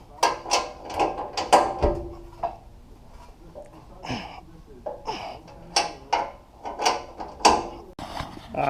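Mounting bolts are undone one after another on the bull bar of a Mitsubishi Triton: close, uneven metallic ratcheting and clicking come in short bursts with gaps, alongside some clunks and handling noise.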